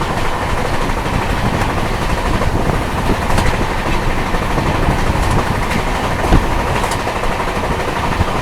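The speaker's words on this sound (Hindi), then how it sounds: "उस ओर से मालगाड़ी क्रॉस कर रही है हमें।" A freight train passing alongside a moving passenger train on an Indian railway line, a loud, continuous rumbling roar with rhythmic wheel clatter and a few sharp clicks, steady across the whole stretch.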